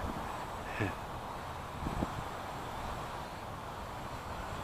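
Steady wind rumbles and buffets across the whole stretch, a broad outdoor roar with a couple of faint knocks in it, recorded during an E68 camera drone flight.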